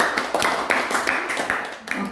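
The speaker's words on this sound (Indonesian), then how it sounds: "berikan tepuk tangan buat kelompok 2" A classroom of students claps for a student group, a short burst of quick, uneven handclaps, close and moderately loud, with a voice speaking over them.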